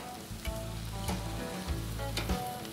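Lamb cooks on a hot grill with a steady, close sizzle and spatter. A low hum runs underneath, and brief clinks and shuffles sound as the pieces are turned.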